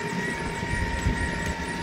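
A Traxxas X-Maxx 8S RC truck runs its electric motor while pushing a child's electric motorbike, giving a steady, close, high-pitched whine with a rumbling undertone and no talking.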